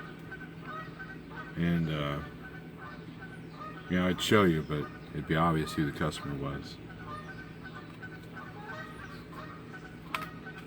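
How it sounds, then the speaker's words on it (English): Geese honking from the rooftops of a quiet commercial property in the morning, a few distant calls heard faintly beneath someone talking up close. "The geese are on the rooftops of this customer."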